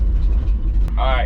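An old truck engine cranks and rumbles at the start, a low heavy idle close by, briefly joined by a higher whirring tone near the end while someone speaks.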